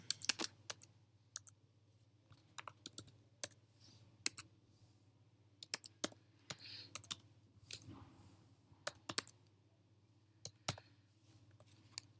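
Keys tapped on a computer keyboard while a web form is filled in, in quiet bursts of quick clicks separated by short pauses, against a low steady hum.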